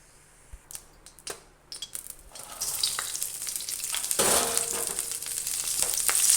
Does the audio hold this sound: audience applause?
no